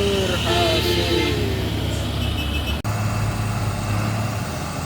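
A container-hauling trailer truck stuck on the steep Kedabuhan uphill, its heavy diesel engine droning loud and steady up close, with faint horn-like tones early on and a brief drop near the middle.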